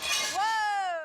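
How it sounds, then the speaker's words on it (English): A pane of glass shatters during a physics-myth test, a brief bright burst of breaking glass followed by a ringing, tonal resonance that fades over about a second. "the pieces of glass keep shattering."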